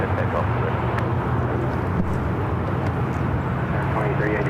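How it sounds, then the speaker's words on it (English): A Lufthansa airliner takes off from runway 28 Left at San Francisco airport, its engines making a steady, loud, broadband roar that holds level throughout, with radio voices faintly present underneath. "the Lufthansa Queen line up, 28 left. Clear for takeoff."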